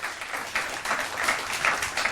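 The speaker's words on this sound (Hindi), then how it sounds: "जोरदार तालियों के साथ स्वागत करिए योग गुरु" A studio audience gives yoga guru Baba Ramdev a welcoming round of applause during a television interview, dense clapping that swells and dips in waves.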